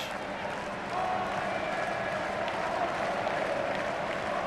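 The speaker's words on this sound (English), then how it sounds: "Just listen to that crowd." Football stadium crowd at the AFF 2021 final between Indonesia and Thailand roars and applauds steadily, a dense, loud, continuous wash of cheering and clapping throughout.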